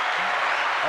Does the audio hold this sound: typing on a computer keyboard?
no